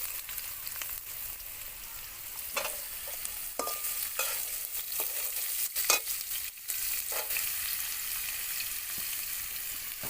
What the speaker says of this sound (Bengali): এরপরে দিয়ে দেওয়া হচ্ছে অল্প অল্প করে আলু